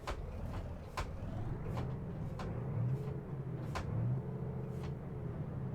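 A Citybus 628c bus engine in the OMSI 2 simulator drones with a low, steady rumble that swells and eases, punctuated by regular sharp clicks or knocks every second or so.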